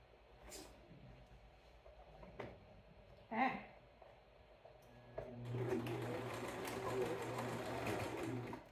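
Sewing machine stitching through layers of bed sheet fabric while making aprons, starting with hesitant bursts and a few knocks, then settling into a steady whirring run in the second half, fairly quiet and close.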